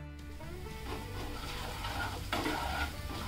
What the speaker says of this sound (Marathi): आलं आणि मिरची ना तुम्ही असंच तेलामध्ये फ्राय करून घ्या